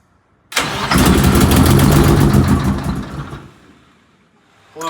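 An Eagle bus engine cranks and briefly catches with a loud, rough roar, then winds down and fades. A second crank begins just at the end.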